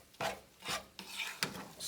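A utensil scrapes through egg and matzah in a frying pan, four rasping strokes at an uneven pace, close and fairly quiet.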